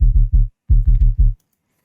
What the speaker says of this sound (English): And then we have the sub layer that sounds like this.